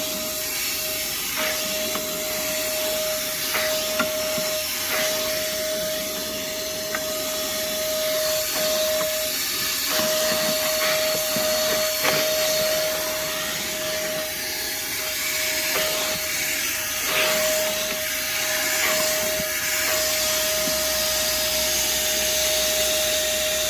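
A Moosoo shop vacuum runs continuously with a steady, loud motor whine and airflow roar, with intermittent rattling and crackling as debris is sucked up, close and without talk.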